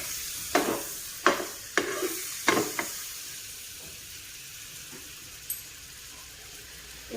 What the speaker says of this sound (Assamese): বাটাৰখিনি চব পিনে অকণমান গলাকৈ দিছোঁ।